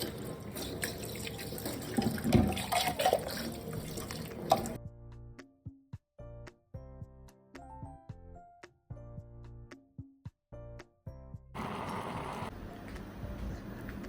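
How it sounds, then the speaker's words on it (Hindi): Tap water runs into a kitchen sink as peas are rinsed, a steady broadband rush for several seconds, then a quieter stretch of drips and small clinks before the flow surges back near and loud. "इस मटर को डालने के लिए इसको धो"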